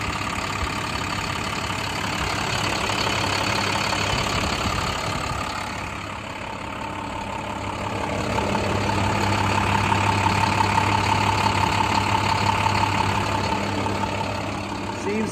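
A 2012 International PB105 diesel short bus idles steadily with a low, even rumble, dipping briefly midway and then swelling louder again, all heard up close.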